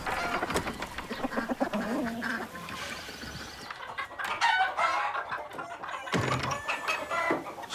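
A flock of hens clucks and squawks close by on a ranch, busy overlapping calls with a few sharper cries, loud and continuous without any talk.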